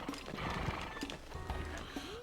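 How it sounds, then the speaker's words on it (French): Horse neighs and clip-clopping hooves from an Animaniacs video game, repeating in short bursts over a steady game backdrop, with a brief voice faintly present. "Qu'est-ce qu'il a, ce cheval à râler tout le temps, là?"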